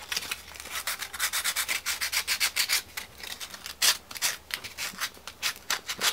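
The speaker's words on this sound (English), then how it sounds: "you're gonna want to get some sandpaper and just roughen this up a little so the glue sticks better" Sandpaper rubs back and forth on a plastic GoPro mount in quick, rhythmic scratchy strokes, close up and fairly quiet, with short pauses between bursts.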